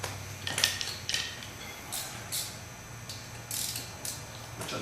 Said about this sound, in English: Turn the wheel and remove our caliper mount bolts,